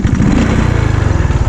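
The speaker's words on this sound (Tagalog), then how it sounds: "Sabi ko na nga ba maraming motor eh." Motorcycle engines run near a beach, with a close, loud, steady pulsing drone like several bikes idling and puttering together.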